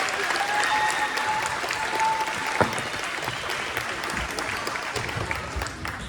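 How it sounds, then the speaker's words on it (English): A school music recital audience gives steady, sustained applause, a dense even patter of many hands clapping at moderate volume throughout. "Let's give another round of applause for our Car Alarm"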